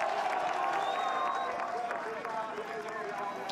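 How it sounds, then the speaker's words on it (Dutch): Spectators applaud from the stands at the 2014 Belgian cyclocross championship in Waregem during a lap of honour, a distant, steady crowd roar of clapping and cheering, with a commentator talking over it. "Applaus op alle banken"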